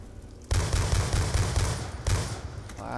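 Loud, dense automatic gunfire in the Black Ops 2 Zombies shooter bursts in abruptly and rattles on continuously, briefly easing before another heavy burst.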